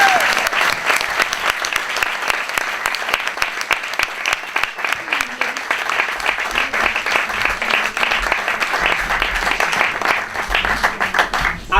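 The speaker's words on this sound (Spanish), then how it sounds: "Por favor, un fuerte aplauso." Loud, sustained applause from a cabaret audience, dense continuous clapping throughout with some low rumble underneath and a few voices mixed in.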